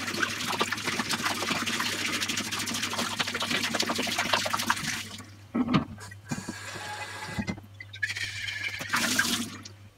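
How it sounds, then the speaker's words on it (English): Water runs steadily from a tap for several seconds, then stops, followed by a few clinks and a brief second burst of running water. "just give them a rinse with cold water"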